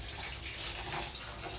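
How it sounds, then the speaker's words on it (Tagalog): A weak stream runs from a kitchen tap, giving a steady, close, unbroken hiss of flowing water with no voices. "Ang hina ng tubig sa amin."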